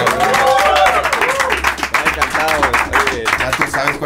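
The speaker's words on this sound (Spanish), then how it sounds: "aplauso para la banda." A party crowd applauds and cheers loudly for a live band, the clapping mixed with shouting voices and lively chatter all the way through.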